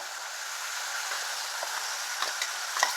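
Potatoes frying in spiced oil in a pan, a steady dense sizzle with occasional soft stirring scrapes, close and continuous, no voices.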